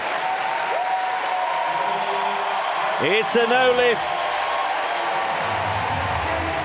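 Paralympic powerlifting crowd in Paris applauding steadily throughout, a broad wash of clapping with cheers swelling near the middle while an announcer speaks over it.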